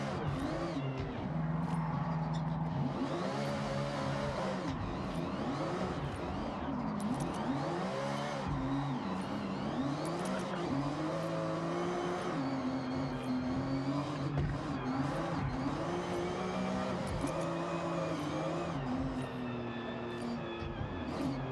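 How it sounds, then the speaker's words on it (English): Ferrari engine in the racing game Forza Horizon 6 holds a loud, continuous high-revving note that rises and falls through gear changes, with occasional tire squeal, and no talk. "Plus, this Ferrari sounds so good."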